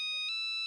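A short electronic phone ringtone chimes, clear steady tones with a brief pulse, loud and close.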